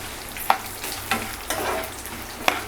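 Chana dal, urad dal, red chillies and garlic fry in a pan with a steady soft sizzle, punctuated by a few sharp stirring clacks, no voices.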